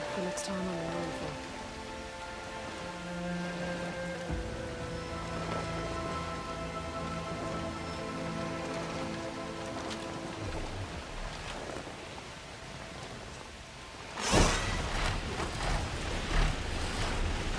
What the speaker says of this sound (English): Rain won't stop us from flying where we need to go.